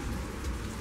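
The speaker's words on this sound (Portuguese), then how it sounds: "Lá já está desde cedo chovendo" Steady rain falls outdoors into buckets, a dense close hiss without a break and no voices.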